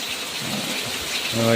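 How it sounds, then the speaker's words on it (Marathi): Heavy rain pours down in a steady, dense hiss that carries through the whole moment, with a faint low rumble underneath and a brief tonal hum near the end. "इकडे बघा जोरदार पाऊस सुद्धा चालू आहे मित्रांनो भरपूर पाऊस चालू आहे"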